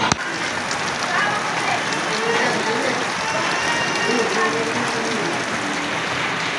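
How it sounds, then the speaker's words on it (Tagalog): Steady rain falling outdoors on a street food stall frying chicken, a constant dense hiss and patter with no pauses, with voices underneath. "So yun, umuulan. Nabutan na kami ng ulan."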